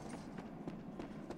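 A horse's hooves clip-clopping in Shadow of the Colossus, a steady faint rhythm of soft hoofbeats under a constant background wash.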